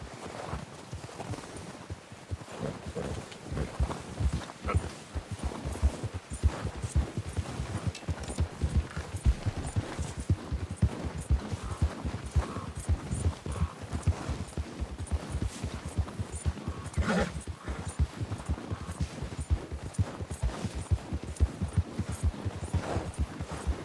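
Horse hooves clip-clopping at a slow walk in the video game Red Dead Redemption 2, a steady stream of soft, evenly paced thuds that carries on for the whole stretch with no talk over it.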